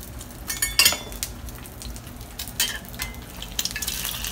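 An egg deep frying in plenty of oil, crackling bursts and spitting pops over a low sizzle, with metal utensil clinks and scrapes at irregular moments, close and moderately quiet, no talking.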